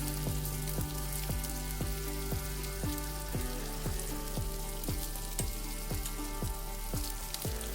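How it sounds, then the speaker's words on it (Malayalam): Steady hot-oil sizzle of sliced onions frying over high flame in a pan, loud and close, with a rhythmic series of metallic scraping or stirring strokes throughout. "അരിഞ്ഞെടുത്ത സവാള കുറച്ച് ഓയിലൊഴിച്ച് അതിനകത്തേക്ക് ഞാൻ ഇട്ട് കൊടുത്ത് വറക്കുന്നുണ്ട്"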